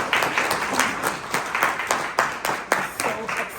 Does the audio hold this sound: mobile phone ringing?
no